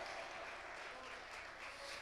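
Church congregation applauding during a sermon, a steady, dense wash of clapping filling the space with no pauses.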